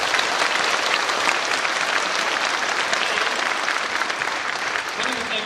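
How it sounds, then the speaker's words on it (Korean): A church congregation claps warmly at a dedication service for a new sanctuary and vision center, dense, sustained applause filling the room for several seconds. "박수 한번 주십시오."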